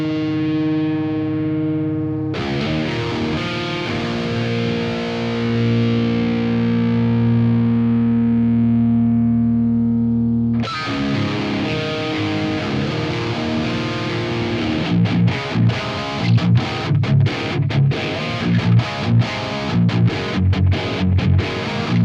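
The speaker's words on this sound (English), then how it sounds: "in the modulation section I will pull up the phaser. I don't want anything too cheesy sounding here" Electric guitar played through a Sonulab StompStation with a subtle phaser: long sustained distorted chords ringing out, then a passage of choppy, rhythmic strummed hits, loud and alone.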